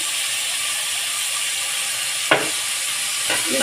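Mutton curry with salt and onions being stirred in a pan, giving a steady sizzling hiss throughout and two brief scraping strokes of the spoon near the end, close by with no talk.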